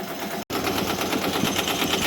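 A Ricoma EM1010 embroidery machine stitches gray thread onto a letterman jacket, a loud, steady rapid mechanical chatter broken by one brief silent gap near the start.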